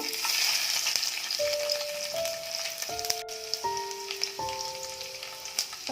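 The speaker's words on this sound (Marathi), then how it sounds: "आता तेल आपलं चांगलं तापलंय, त्याच्यामध्ये 4 ते 5 लसणाच्या पाकळ्या टाकते." Garlic cloves fry in about three spoons of hot oil in a frying pan, giving a soft, continuous sizzle with a few light pops and quiet stirring noises, while a faint steady tone plays in the background.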